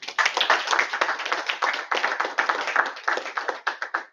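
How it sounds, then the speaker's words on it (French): An audience at a Toastmasters club session applauds a speaker, brisk close clapping in a steady crackling wash with no talk over it. "On peut l'applaudir encore une fois."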